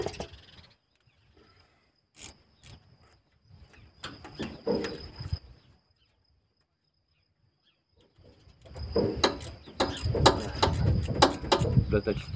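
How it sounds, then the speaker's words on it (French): Ratchet wrench clicking while tightening in a cramped spot on a Ford 550 tractor that will not start, quiet scattered clicks at first, then a louder dense burst of rapid metallic ratcheting near the end. "Je vais voir si je peux y passer le cliquet, mais je doute."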